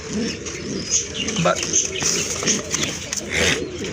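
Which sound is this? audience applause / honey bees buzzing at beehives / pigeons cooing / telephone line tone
pigeons cooing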